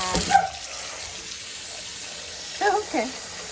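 Tap water runs into a kitchen sink to wash vegetables such as celery and kale: a soft, steady hiss close by, with a couple of brief murmured voice sounds on top.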